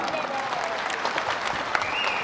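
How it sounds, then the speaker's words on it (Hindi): A large crowd at a political rally speech in Raipur, Chhattisgarh claps steadily in dense, sustained applause that fills the whole stretch, loud and close, with faint voices mixed in. "जोरदार तालियों के गवाह से स्वागत।"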